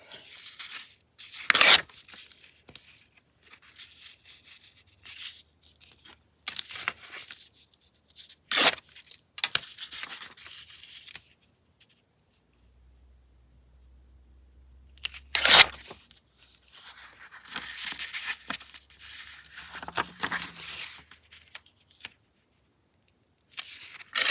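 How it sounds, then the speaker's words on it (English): Red, white and blue patriotic scrapbook paper tears in a few sharp, close rips separated by long quiet gaps, with some softer rustling of paper between them and no talking. "I need to tear this end off"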